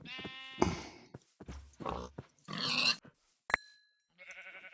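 Pig in Minecraft TerraFirmaCraft squealing and grunting as it is killed, a string of short, sharp, close animal cries and grunts with pauses between them, ending in a higher sustained squeal.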